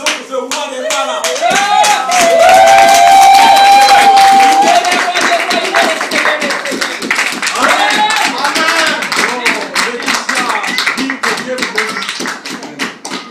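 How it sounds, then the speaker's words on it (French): A church congregation claps in rhythm during a lively service, loud and close, with singing and voices rising over the steady beat of hands throughout. "Applaudissons pour ce roi des rois là."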